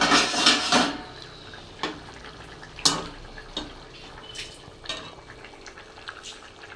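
Tengra fish go into a pot of potato curry with splashes and a sizzle, followed by a series of sharp metallic clinks of utensils and a lid against the pot over a low bubbling.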